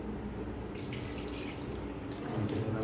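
Water poured into a pot of duck meat curry, a continuous close splashing pour lasting a few seconds.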